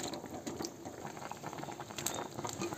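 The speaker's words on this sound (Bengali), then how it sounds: "ঝোলটা কিন্তু ফুটে গেছে, দেখো।" Curry broth boiling in a pot makes a faint, steady bubbling and popping, with small irregular ticks close by.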